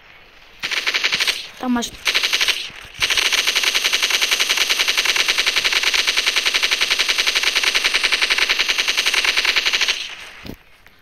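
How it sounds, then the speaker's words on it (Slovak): Sustained automatic machine-gun fire from a video game, loud, rapid and continuous for several seconds after a short opening burst, with a brief spoken remark at the start. "Ja to vybehnem s gulometom."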